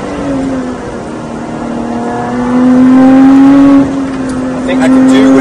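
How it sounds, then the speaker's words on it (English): A 2019 Lotus Exige 410 Sport on track, its engine droning loud and close and rising in pitch, then dropping through a gear shift and climbing again, with talk over the engine in the cabin. "That gear shift is so sick!"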